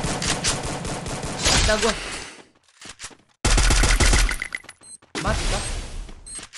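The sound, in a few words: gunfire from a Beretta in a video game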